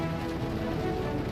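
Steady rain drums on the outside of a parked truck with a broken air conditioner, a dense, even patter close by with no gaps and no voices.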